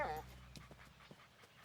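A dog in an animated children's cartoon gives a brief whimper and then pants in soft, rhythmic breaths, faint and close, with voices around it.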